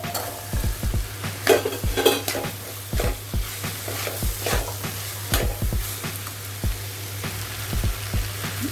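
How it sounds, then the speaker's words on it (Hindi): Chickpeas being stirred into hot masala and oil for chole, giving a steady sizzle broken by repeated scraping stirs of a spoon against the pan, close and fairly loud, with no voices. "अब हम ये छोले डाल देते हैं।"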